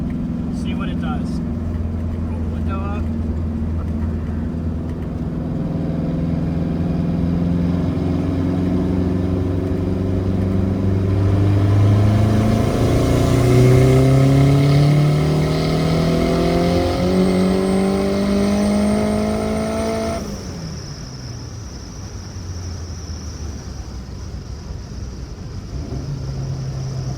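Turbocharged K20 Honda Civic rolling into acceleration in fourth gear, the engine drone climbing steadily for about twenty seconds heard from inside, then dropping off sharply as the throttle lifts, with turbo whine up high.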